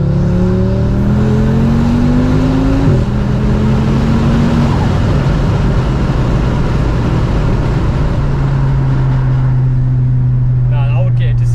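A VW Golf R fitted with a 640bhp 2.5L Audi RS3 five-cylinder engine accelerates hard, the engine note winding up loudly through rising gear pulls with a whirring, turbine-like whine; a voice speaks over it.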